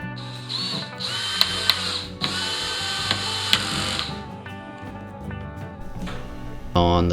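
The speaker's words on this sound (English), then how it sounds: "I can put those anchors in place, being careful not to hit the mirror, and then secure it with some screws" A power drill drives screws into wall anchors beside a mirror in a bathroom remodel, giving bursts of whirring with ratcheting clicks and a few sharp knocks, close by, ending in a louder final burst.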